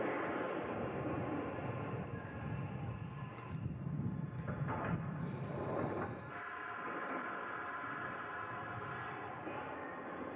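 A London Underground 1983 stock six-car train with single doors rumbles steadily at a distance. The noise stays faint and continuous, with a brief high-pitched squeal near the middle and no talking.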